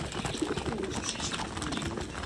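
Pigeons coo and call steadily at close range while a flock of new birds eats grain from a hand in a village setting, with a soft rustling background throughout.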